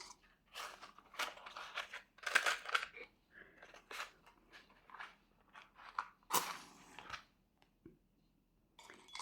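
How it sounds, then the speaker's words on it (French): Matches are struck to set a paper ring alight: several sharp, scratchy bursts come in quick succession, a few louder flares among softer rasps, with quiet gaps in between. "je vais prendre des allumettes"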